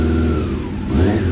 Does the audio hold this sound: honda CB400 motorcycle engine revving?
yes